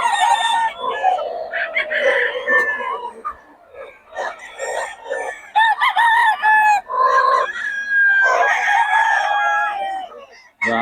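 Several roosters crow repeatedly, loud and close, their calls overlapping with clucking hens throughout.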